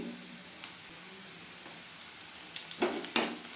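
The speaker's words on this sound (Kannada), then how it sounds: "ಇವಾಗ ಮೆಣಸಿಕಾಯಿ ಹಾಕ್ತಾ ಇದ್ದೀನಿ" Green chillies frying with onions in a hot pan for egg rice, a faint steady sizzle with a few sharper crackles and stirring clinks near the end.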